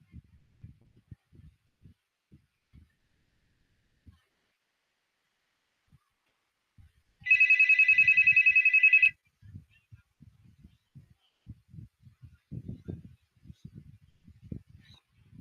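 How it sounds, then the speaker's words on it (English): A mobile phone rings in one electronic burst of about two seconds, bright and steady, cutting through an otherwise quiet indoor scene where someone speaks in short phrases before and after it. "That was my phone ringing."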